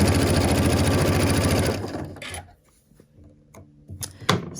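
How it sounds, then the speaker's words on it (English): A sewing machine stitches quilt fabric pieces in a loud steady whir for about two seconds, then stops, leaving quieter handling clicks and thumps. "we're going to sew this one"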